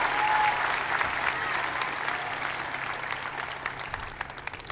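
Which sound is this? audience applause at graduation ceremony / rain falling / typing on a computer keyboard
audience applause at graduation ceremony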